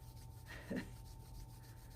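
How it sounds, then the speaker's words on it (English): Two hands rubbing briskly together in a quiet room, a single soft swishing friction burst lasting under half a second. "rub your hands together"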